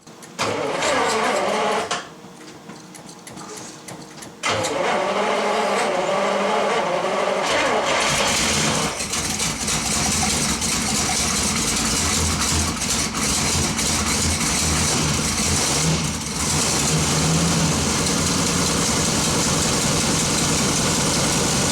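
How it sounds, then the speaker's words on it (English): An old Ferrari 250 GTE V12 engine, first start after sitting 40 years, cranks with brief bursts, then catches and roars into a loud, steady idle that runs on close by without pause. "Here's the engine being fired up for the first time after sitting for 40 years."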